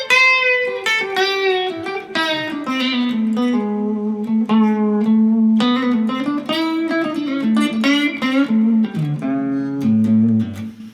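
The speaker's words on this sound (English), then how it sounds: "once you can start flowing and putting bends all over the place, it starts to sound kind of like this" Expressive electric guitar lead line with notes sliding and bending in pitch, played continuously and fairly loud with a distorted edge.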